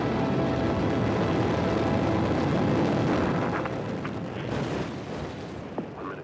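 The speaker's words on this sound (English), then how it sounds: "In a fireball, the Shuttle Challenger exploded 73 seconds after launch" A loud, sustained broadband roar from the Space Shuttle Challenger's fatal 1986 explosion 73 seconds after launch, rumbling continuously and slowly fading over several seconds, with a few sharper crackles near the end.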